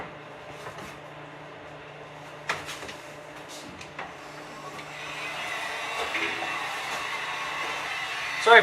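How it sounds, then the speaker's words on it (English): A Wagner heat gun set to 950 blows over the edge of window tint on a 2004 Dodge Ram, a steady fan whoosh that grows louder midway, with scattered knocks and handling clatter nearby. "So I have two of the Wagner heat guns."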